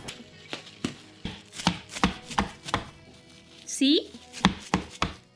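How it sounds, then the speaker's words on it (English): Sharp crackling snaps, about a dozen in an uneven series, as a biscuit is broken into small pieces inside microwave foil close by; a brief spoken word cuts in midway. "now I'm going to break it into small"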